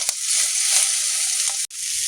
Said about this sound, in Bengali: আমি ঘিয়ের মধ্যে রসুন, শুকনো লঙ্কাটা ফোড়নটা ভালো মতো করে একটু ভাজা ভাজা করে নিয়েছি